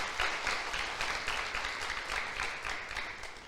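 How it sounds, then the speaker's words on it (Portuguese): A church congregation breaks into sustained applause during a sermon, a dense, even wash of clapping from many hands that carries on steadily throughout. "Aplauda o Senhor."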